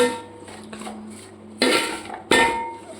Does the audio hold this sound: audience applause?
no